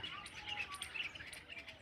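Small birds, sparrows and mynas, chirp and call in quick overlapping bursts at moderate distance while waiting for scattered feed grain outdoors, a steady faint chatter with no pauses.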